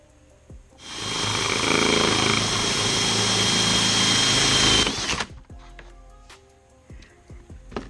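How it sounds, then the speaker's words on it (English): A power drill whines steadily for about four seconds as a hole saw cuts, then spins down, followed by light tapping and handling noises nearby. "the drill bit from the hole saw starts a little better"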